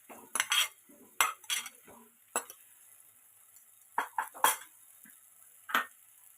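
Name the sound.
stirring fried potatoes into poppy seed and chilli masala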